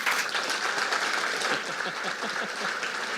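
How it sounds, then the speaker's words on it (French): An audience applauding a panel at a French-language conference on the retirement age, a steady, full round of clapping that is fairly loud and continuous, with no talk over it. "Une bonne main d'applaudissement pour notre panel."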